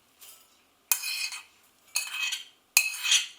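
Spoon stirring All-Bran, grated courgette and oat milk in a bowl, giving four short scraping, clinking strokes with quiet pauses between, close and fairly soft.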